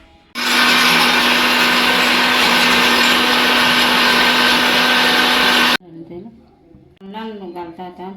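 A kitchen grinder blends masala paste with garlic and onion for Goan chicken vindaloo: a loud, close, constant roar for about five seconds that cuts off abruptly, followed by a person speaking.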